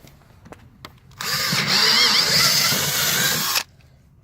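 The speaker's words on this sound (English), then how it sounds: "so that one I know we got into aluminum in the front hole there, so go ahead and drill that out" Power drill bores out an aluminum hole on a Bennington SX21 pontoon boat during a diving board installation: a single loud, steady whine of about two and a half seconds, starting and stopping sharply, with faint knocks before and after.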